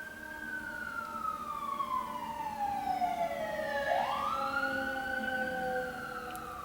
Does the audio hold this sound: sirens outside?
yes